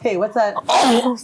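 A single sharp sneeze from a person bursts out loud and close amid conversation, with other voices talking just before it.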